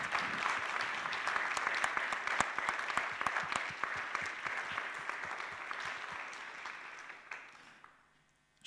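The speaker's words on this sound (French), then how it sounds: "Donc ça mérite en tout cas quelques applaudissements" An audience at a French-language round-table debate on diversity gives sustained applause, with crisp, fast individual claps that carry on evenly before tapering off and fading out near the end.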